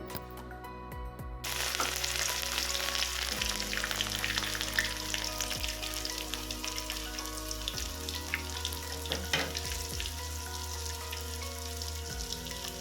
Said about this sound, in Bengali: থেতো করে নেওয়া রসুনগুলো আমি দুই তিন মিনিটের মতো ভেজে নিচ্ছি